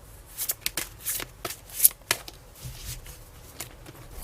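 Tarot cards being shuffled by hand nearby, with a quick run of crisp riffles and soft slaps in irregular bursts and no talking.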